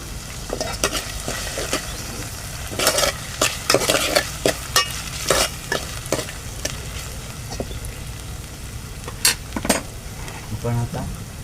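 Onions and tomatoes sizzle in a hot pan while a spoon scrapes and stirs them in bursts of clatter, a steady frying hiss running underneath throughout.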